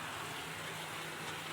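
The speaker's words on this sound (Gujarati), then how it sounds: "હજી વરસાદ બંધ પડ્યો નથી. કન્ટિન્યુ ચાલુ છે." Rain falls steadily after a full day of nonstop downpour, a faint, even wash of noise with no distinct drops or breaks, no voices.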